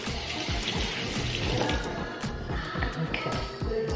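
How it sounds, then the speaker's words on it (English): Tap water runs steadily into a sink while hands are rinsed during meat preparation for Thanksgiving, with splashing and gurgling close by and no speech. "Rinse my hands again."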